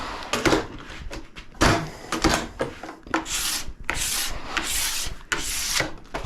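A sharp scraper is drawn along a ski edge in repeated rasping strokes, close and fairly loud, each stroke a short dry scrape separated by brief gaps, with the pace quickening into longer strokes.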